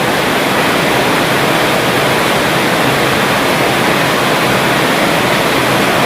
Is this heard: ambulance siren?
no